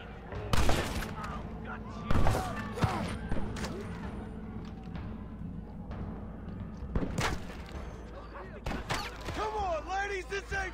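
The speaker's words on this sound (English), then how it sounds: "Who the hell is shooting at me?" Gunfire in the Red Dead Redemption video game: repeated loud shots and volleys crack out in bursts across the scene, with a voice talking over the battle.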